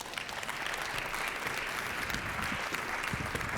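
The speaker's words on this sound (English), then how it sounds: "Give Stein Nilsen a warm applause" Audience applause following a conference talk on the shift to renewable aviation, a dense steady clapping from a hall crowd that holds evenly loud throughout with no voices over it.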